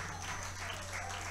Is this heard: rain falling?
no